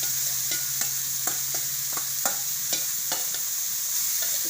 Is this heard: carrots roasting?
yes